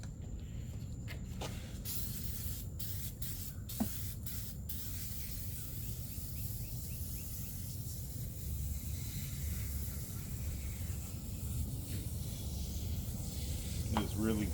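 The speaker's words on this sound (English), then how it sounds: "we can start spraying this oven cleaner" Oven cleaner sprayed from an aerosol can onto a greasy Honda Civic EK engine bay, giving a long continuous hissing spray with short pauses and bursts early on.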